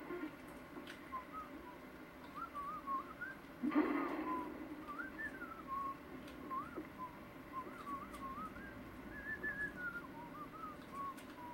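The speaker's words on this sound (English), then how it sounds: "Someone's whistling the tune instead." Someone whistles a wavering tune in the video game Mouse: P.I. For Hire. The whistling is faint and continues steadily for the whole clip, with one brief louder burst partway through.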